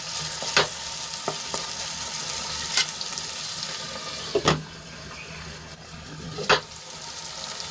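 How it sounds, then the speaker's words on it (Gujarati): Finely chopped tomato cooking with onion in a pan for a dry brinjal curry: a steady low sizzle broken by a few sharp scrapes and clinks of a spoon against the pan, with no voices. "ઝીણું કાપેલું ટમેટું એડ કરી લઈશું અને ડુંગળીમાં સરસ રીતે મિક્સ કરી લઈશું"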